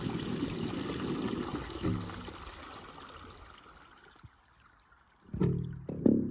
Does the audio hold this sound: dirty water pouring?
yes